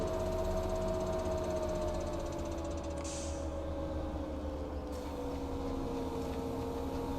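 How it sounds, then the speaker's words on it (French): Tractor engine in Farming Simulator 19 drones loudly and continuously while baling, a steady low rumble with a slowly shifting tonal whine and a brief hiss partway through. "Même au pressage, il fait un sacré bruit le tracteur"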